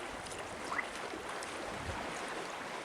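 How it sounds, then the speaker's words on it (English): Clothes are hand-washed in a lake by pushing water through the fabric, making soft continuous sloshing and swishing with a few small splashes, quiet and close. "I want to try to push the water through it"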